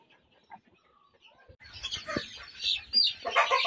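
Chickens and chicks on a poultry farm cluck and cheep, sparse soft calls at first, then a busier, louder chorus of clucking and peeping that grows toward the end.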